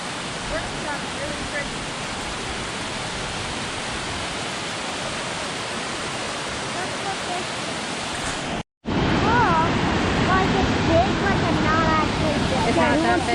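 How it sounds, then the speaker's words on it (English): Roughlock Falls in Spearfish Canyon in the Black Hills, South Dakota: a constant, full rush of falling water, close and steady, broken only by a brief cut before resuming slightly louder. "So this is Rough Rock Falls?"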